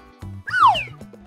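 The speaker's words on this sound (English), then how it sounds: "kitten." A kitten gives a single clear meow with a rising then falling pitch, close and alone against soft background music.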